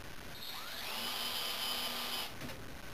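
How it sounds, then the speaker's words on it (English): A Stanley chamfering tool spinning in drilled holes to chamfer and deburr them, a steady close whirring grind that rises in pitch and holds before cutting off near the end, with no talking. "And this is just a simple Stanley chamfering tool."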